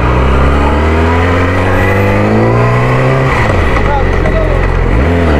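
Car on a roller brake tester at a vehicle inspection station during a combined front and rear brake test, its engine droning loud and steady with a dip and recovery near the end.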